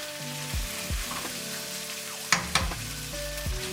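Char siu sizzles and crackles in hot oil in a wok with garlic, with repeated scraping stir strokes and a couple of sharp clanks near the end, steady and close.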